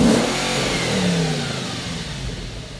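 An Audi RS4 revs with its exhaust valves closed, a steady, fairly muted engine roar that swells slightly and then eases off over a few seconds, heard alone with no voices.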